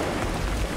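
Steady rain pouring down in Assassin's Creed Odyssey, a dense, even hiss of falling water with a low rumble beneath, loud and close throughout with no voices.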